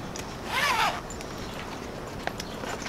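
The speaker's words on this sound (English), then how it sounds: "front zipper pouch to hold all your things." A zipper is pulled along the front pouch of a laptop bag, giving one quick, fairly close zip lasting about half a second amid quiet room noise.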